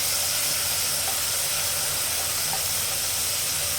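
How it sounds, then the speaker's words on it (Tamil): Tomatoes dropped into browned onions frying in a pan for chicken gravy, a steady loud broadband sizzle and hiss, constant and close throughout with no voices. "இப்போ தக்காளி போட்டுக்கலாம்."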